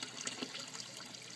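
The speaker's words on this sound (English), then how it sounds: "that's the sound of a bell siphon ending its cycle" Aquaponics bell siphon at a school system finishing its drain cycle, a soft steady watery trickle with brief gurgling bursts, close and fairly quiet, no talking.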